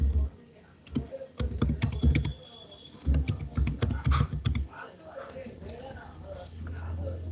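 Keys clatter on a computer keyboard as a command is typed to install a Redis server, coming in quick bursts of close clicks with pauses between them.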